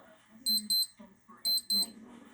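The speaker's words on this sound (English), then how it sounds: "My watch is beeping." A wristwatch gives two pairs of sharp, high electronic beeps about a second apart, close and clear over quiet indoor room sound.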